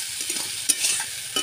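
Spice masala fries in oil with a steady hiss and sizzle while a spoon stirs through it, occasional scrapes and clacks rising above the continuous frying, close and unvoiced.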